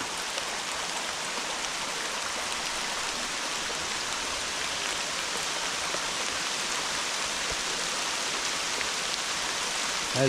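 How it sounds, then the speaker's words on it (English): Heavy rain pouring down steadily during an outdoor walk, a dense, loud, unbroken hiss of falling water with no voices. "That is some heavy rain coming down now."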